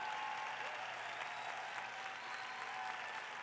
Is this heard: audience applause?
yes